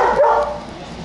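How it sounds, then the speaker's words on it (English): On a coastal street in Coogee, Sydney, near restaurants, a dog barks and yelps excitedly behind a passerby, the bark loud but slightly distant amid outdoor street ambience. "Dog going crazy behind me."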